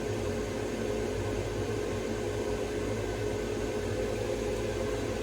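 A makerspace paint booth's ventilation runs steadily, a constant loud broadband whoosh with a low hum and no change throughout.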